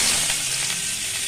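Onion tossed into hot oil with cumin seeds sizzles briskly and close up in a dense, even hiss, heard alone.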